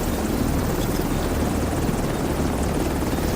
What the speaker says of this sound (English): Chopper takes a lot longer to get there.